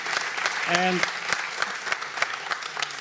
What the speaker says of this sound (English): So a warm applause for the panel.